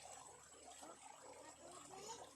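Water is poured out to wash slippers outdoors, giving a low, steady splashing flow that stays faint and even for a couple of seconds, with no one speaking.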